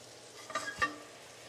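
Peppercorns toasting in a hot pan, faint sizzling with a couple of quick scraping stir sounds and a soft tap, close and quiet.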